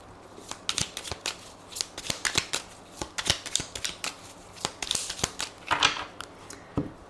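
Tarot cards are shuffled and cut close by in a quiet room: quick irregular riffling snaps and soft flicks of card stock come in bursts, with no voices.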